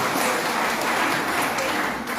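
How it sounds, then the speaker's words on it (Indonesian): A congregation applauds at a Christmas church service, sustained broadband clapping from many hands, steady and fairly loud without pause. "Tepuk tangan yang meriah bagi Tuhan."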